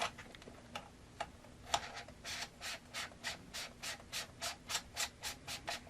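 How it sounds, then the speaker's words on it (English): A 77 mm step-down adapter ring is threaded onto a camera lens, giving a run of about a dozen soft, evenly spaced scraping ticks up close, faster and steadier toward the end, with no talking. "So you'll do that just by threading it in."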